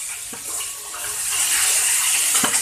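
Water runs steadily from a tap into a kitchen sink, a loud, close broadband rush that swells slightly midway, with a couple of faint clinks and no talking.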